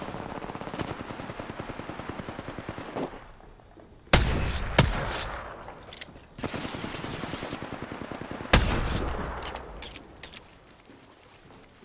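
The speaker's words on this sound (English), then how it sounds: "I did really badly at shooting those bullets." Rapid automatic gunfire from an Apex Legends match, with long rattling bursts of closely spaced shots, loud and near, punctuated by a few sharper heavy cracks.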